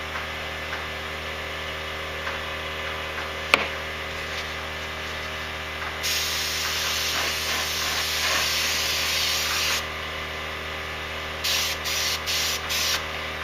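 Paint sprayed in a super light first coat on an XR10 part: a low background hum and a single sharp tap, then a steady close hiss of spraying, followed by several short bursts.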